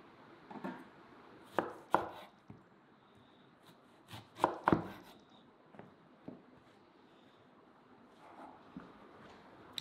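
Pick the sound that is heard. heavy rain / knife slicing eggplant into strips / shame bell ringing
knife slicing eggplant into strips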